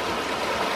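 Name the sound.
spring water flowing in a ravine stream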